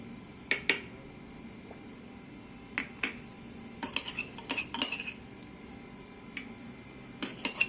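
Ginger and green chili paste is scooped up with a utensil, producing scattered sharp clicks and scrapes against a dish, some in quick clusters, quiet and with no voices.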